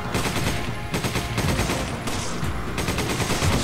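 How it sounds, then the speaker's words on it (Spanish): Rapid bursts of automatic gunfire fill Resident Evil 5 gameplay, loud and dense, broken by brief pauses, with no voices over the shooting. "Disparos a los pies."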